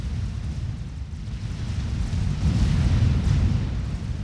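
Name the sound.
tactical missile explosions in video game Forged Alliance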